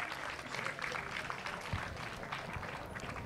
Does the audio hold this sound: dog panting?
no